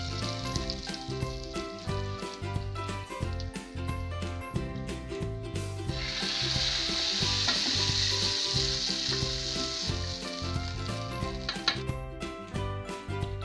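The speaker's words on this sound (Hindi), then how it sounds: "अब ये देखिए हम दाल में ये बघार डाल देंगे।" Hot tadka tempering hits a pot of moong masoor dal and sizzles loudly and steadily for several seconds, with stirring and clinking of a pan around it and no talking.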